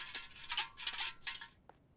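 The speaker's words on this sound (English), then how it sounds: "Is someone like taking a pan and a stick and they're just like shuffling the stick inside the pan" A stick scraping and rattling inside a metal pan in the horror video game Night Delivery, a series of faint, bright, rhythmic scrapes in quick succession, heard alone.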